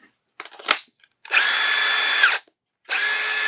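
A Milwaukee power drill whirs in two sustained high-pitched runs separated by a short pause, close and clear after a few handling clicks.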